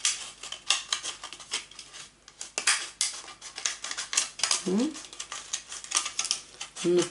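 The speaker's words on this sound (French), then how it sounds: "je finis avec les ciseaux" A plastic pot is cut in half with scissors after starting with a cutter, giving close, irregular snipping and crackling plastic sounds with short pauses between cuts.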